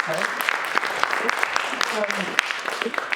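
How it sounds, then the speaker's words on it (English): Audience applause at a small theater venue, scattered claps and whoops mixed with audible murmuring voices across a short stretch. "So let's give that a round of applause."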